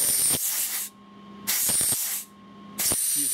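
Oxygen gas hisses through a flow-control valve in three loud, broadband bursts, each lasting about a second, separated by brief quieter gaps with a faint steady tone.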